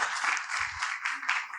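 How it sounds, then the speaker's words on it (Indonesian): Audience applause at a national consolidation session, a short burst of dense clapping from a crowd indoors, moderately loud and steady, with a brief low voice underneath. "Tepuk tangan dong buat kita semua, kawan-kawan."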